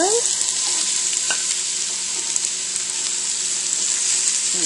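Onions being caramelized for grilled cheese sizzle steadily in hot oil in a large, crowded pan, a dense, loud, continuous hiss with a brief clink of a spatula near the start.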